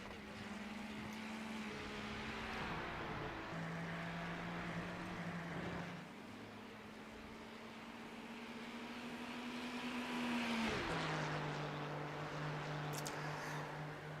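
Ferrari race cars in the iRacing sim: a continuous engine drone with sustained tones that climb, hold and drop with gear changes, loud and steady for the whole stretch with no talk.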